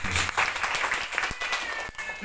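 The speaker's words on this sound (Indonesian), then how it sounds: "Beri tepuk tangan terbaik buat Tuhan Yesus." A church congregation gives brief applause in a short burst that mixes with voices and room sound, after which a preacher's speech resumes.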